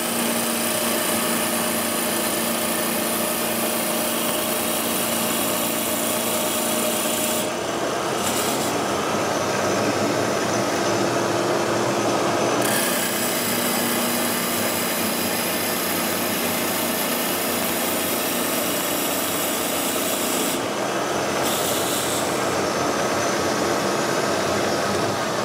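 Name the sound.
wood lathe slowing down during a cut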